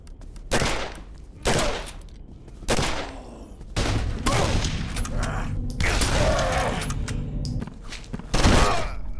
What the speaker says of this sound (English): I've been ranting about the deafening Firearms sound effects